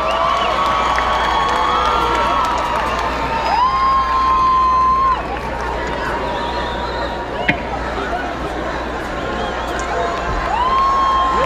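A live concert crowd in Pasto cheers for a local singer-songwriter on stage: loud sustained shouting, whoops and scattered clapping from a big audience, with a few high whistles and voices rising and falling in the din.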